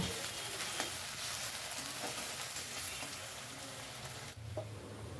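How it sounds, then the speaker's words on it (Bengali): Cut potatoes fry in a pan with garlic, making a continuous, close crackling sizzle with occasional stirring scrapes. The sound holds at an even level for the whole stretch. "কেটে ধুয়ে রাখা আলুটাকেও দিয়ে দেব আলুটাকে বেশ কিছুক্ষণ ভাজতে থাকবো"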